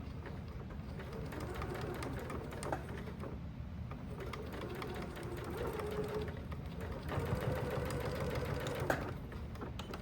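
A sewing machine runs steadily, stitching a seam on a messenger bag with short reverse passes to backstitch, its motor hum and needle clatter continuous and close throughout.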